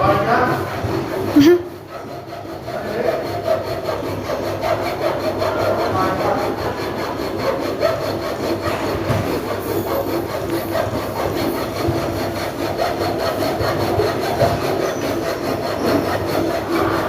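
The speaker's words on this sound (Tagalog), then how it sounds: "lagariin natin to." A hand saw cuts steadily through a metal drum being made into a trash bin, giving a continuous rasping scrape that starts after a brief pause and continues without a break.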